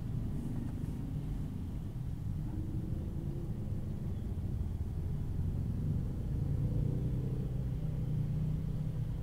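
Congested city road traffic in Malang, a steady low rumble of idling and creeping engines with faint passing hiss, continuous and moderately distant, no talking.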